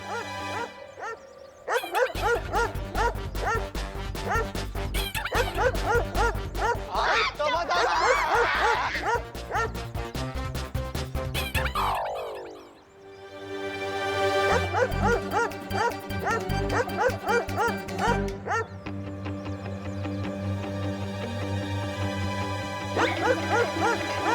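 Two people imitate a small dog, yapping and barking in quick repeated bursts, fairly loud and close, with voices talking in between the barks.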